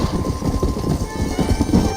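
A train rolls through a station in Red Dead Redemption, a close, steady chugging clatter with rhythmic wheel clicks and a faint whistle-like tone held above it.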